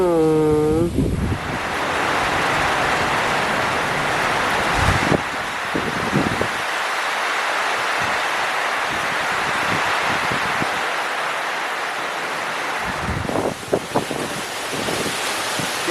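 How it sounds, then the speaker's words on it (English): Strong cyclone wind gusting at 25 to 35 knots roars as steady broadband rushing and buffeting against the microphone, loud and continuous throughout, with brief low thumps and a short voice near the start. "the wind's up to 25 to 35 knots at the moment"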